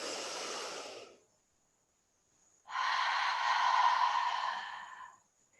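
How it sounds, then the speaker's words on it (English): Two long, deep breaths close out a slow-flow yoga session: a broad airy inhale, a pause of silence, then a longer, fuller cleansing exhale, close and steady, with no talking. "we close with 3 cleansing breaths"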